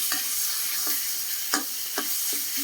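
Ingredients stir-fried with seasoning sauce, giving a continuous close sizzle broken by a rhythmic series of spatula scrapes and taps against the pan, roughly every half second, with no talking.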